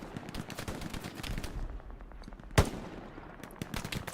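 Gunfire from a machine-gun position in the World War II shooter Hell Let Loose, heard as a steady rattle of rapid shots across a noisy battlefield, with one sharper, louder blast partway through.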